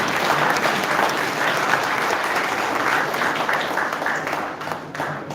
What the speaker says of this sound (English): I once again request everyone in the audience to give a big clap to the students